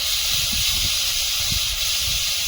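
Prawns with salt and turmeric, then onion, tipped into hot oil in a pan, giving a loud, steady broadband sizzle and hiss that carries on unbroken throughout, with faint low clatters beneath.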